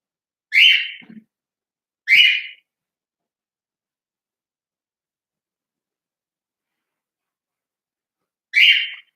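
A pet bird indoors lets out three sharp, loud squawks, two close together and a third after a long silence.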